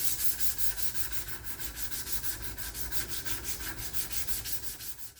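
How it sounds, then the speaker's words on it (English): Steady back-and-forth rasping of hand sanding a steel knife blade made from a broken bandsaw blade, a rhythmic scrubbing stroke about every third of a second, close and continuous with no talking. "Now all I gotta do is hand sand it and get it looking all nice and pretty"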